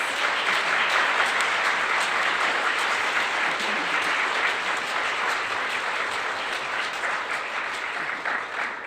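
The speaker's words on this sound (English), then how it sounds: "maybe we should give a round of applause to our panelists." A conference audience applauds its panelists in a dense, sustained wash of clapping that stays loud and even throughout, easing off only slightly toward the end.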